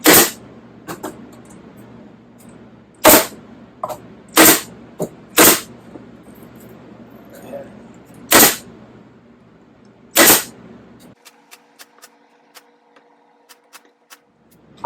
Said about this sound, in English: I've switched to my 18 gauge gun because it shoots a little shorter nail